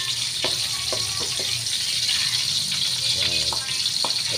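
Garlic frying in a pan for Filipino chicken adobo gives a steady close sizzle throughout, with a few short clicks and scrapes of stirring on top and no talk over it.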